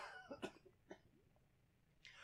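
Several sharp coughs from one person close to the microphone, clustered in the first second, then a quiet pause and a soft rustle near the end.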